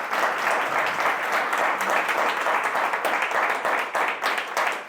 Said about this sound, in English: let's give this guy a round of applause.